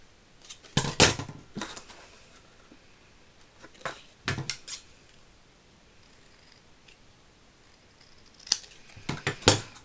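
Scissors snip through paper letters in short bursts of crisp cuts, close and clear, separated by quiet pauses as an advent calendar is made.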